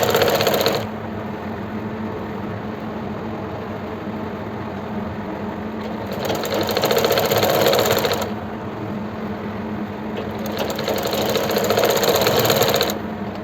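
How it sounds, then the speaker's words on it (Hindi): A sewing machine stitches the elastic waistband edge of palazzo pants, running in steady rapid bursts that start, pause briefly, and resume several times, close and fairly loud with no talk. "अब बेल्ट की सिरे वाली सिलाई हम लगाएंगे, जो बिल्कुल सिरे पर लगाते हैं।"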